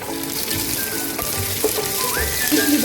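Garlic and chillies frying in oil in a pan while cooking leafy red-stalk greens, a steady close sizzle with light crackles throughout.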